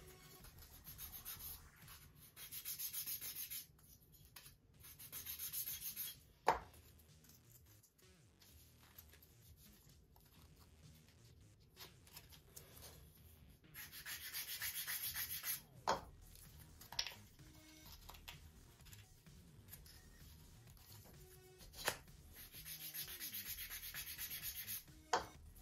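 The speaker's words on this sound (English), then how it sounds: "It'll require a little bit of sanding" Sanding a flap on a Top Flite .60 size P-40E Warhawk model airplane build, soft rubbing strokes in bursts with brief pauses, close and fairly quiet, with a few sharp knocks.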